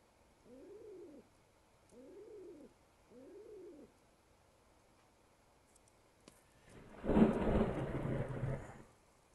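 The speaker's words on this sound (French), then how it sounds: "L'orage là." Thunderstorm in the Rusty Lake Hotel video game: three soft, evenly spaced dove-like coos give way to a loud, rumbling thunderclap that swells and fades away, with no speech.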